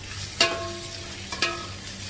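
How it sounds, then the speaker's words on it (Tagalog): Pork belly dropped into a pan with browned garlic, onion and ginger while cooking Ilocano igado, a soft steady sizzle with two sharper clattering stirs close by, no talk. "Brown na yung bawang, sibuyas at luya. Ilagay na natin yung belly."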